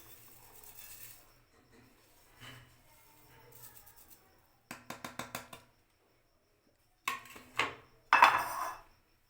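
Spoon clinking against a metal bowl or plate while ground cumin, red chili and ajwain are mixed for a fish dish, with sparse scraping and then short bursts of sharp taps, quiet overall.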